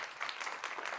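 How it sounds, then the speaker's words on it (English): Audience applause at an anime convention honoring guests of honor, a steady wash of clapping throughout the short burst. "And last applause for our amazing, amazing guests of honor, who we love dearly."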